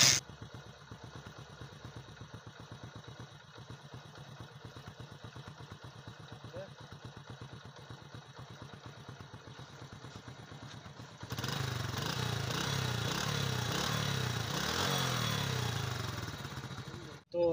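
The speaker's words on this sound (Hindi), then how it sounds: "बाइक को करते हैं स्टार्ट।" Honda CD-70 motorcycle fitted with a new replacement silencer, idling at a steady close-range putter before the exhaust grows louder and fuller, as if revved, for the final seconds.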